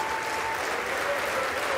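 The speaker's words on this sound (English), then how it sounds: "Now, for that, he got bipartisan applause." Bipartisan applause fills the House chamber after a new Speaker's remark, a steady, roomy wash of many hands clapping at moderate distance, unbroken throughout with no clear voices.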